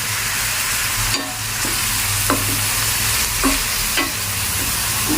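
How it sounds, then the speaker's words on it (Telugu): Onions frying in a pan for Telugu-style munanam fish pulusu, sizzling steadily at close range while a spoon scrapes and stirs every second or so, with no talking. "ఉల్లిపాయలు మంచిగా వేగాలి, గోల్డెన్ కలర్ వచ్చే వరకు వేగాలి"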